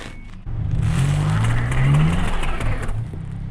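A 1997 Suzuki Escudo pulling away on tires frozen flat in extreme cold, the engine rising from quiet into a steady droning hum with a rhythmic thumping underneath, close and sustained.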